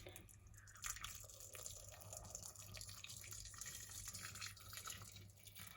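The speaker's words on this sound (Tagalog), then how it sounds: "Bubuhusan natin ng tubig, guys." Hot water poured over tofu cubes makes a soft, steady stream of splashing and trickling that runs quietly for several seconds.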